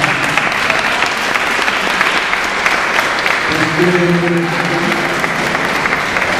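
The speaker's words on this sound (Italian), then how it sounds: "Possiamo dare un applauso?" An audience at an art exhibition opening claps loudly and continuously, a dense, sustained roar of applause. A voice briefly speaks partway through while the clapping continues.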